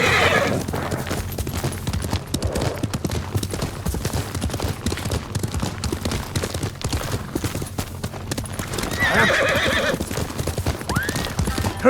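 In the video game Ghost of Tsushima, a horse gallops with steady rapid hoofbeats, neighing loudly twice over continuous game music and ambience.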